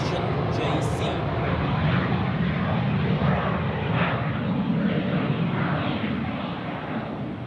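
Airplane taxiing slowly at Zurich airport, a broad steady engine roar with low rumble that holds even and then eases slightly toward the end, moderately near, with a voice talking over it.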